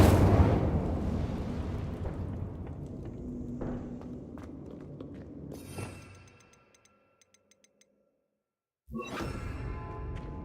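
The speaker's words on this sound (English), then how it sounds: "Incendio." Incendio fire spell cast in Hogwarts Legacy, a loud burst of roaring flame that rumbles and fades over several seconds, followed by a brief silence and a second fiery burst.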